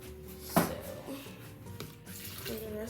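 Bottled water is poured into a container indoors, a soft splashing trickle that continues faintly for a few seconds with brief knocks and handling noise.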